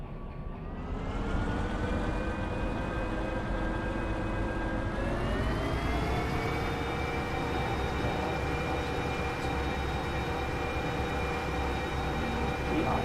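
A heavy train is driven in a video game, giving a steady, loud mechanical drone with sustained tonal whine that rises slightly in pitch partway through, continuous throughout with no talk.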